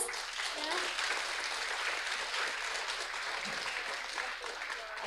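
Applause from an orientation audience at Telkom University, a steady, moderately distant wash of clapping that holds evenly for the whole stretch.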